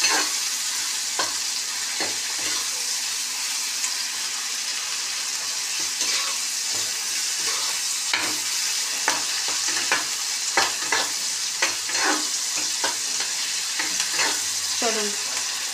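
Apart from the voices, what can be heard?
spice paste being stir-fried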